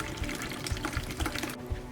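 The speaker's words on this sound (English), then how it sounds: "The collected water is simply poured away" Collected water from the removable reservoir of a Lexent Mevagissey 10 dehumidifier is poured away, a soft, close trickling and splashing stream with small gurgles that cuts off near the end.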